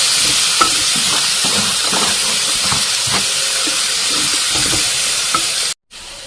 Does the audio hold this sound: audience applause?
no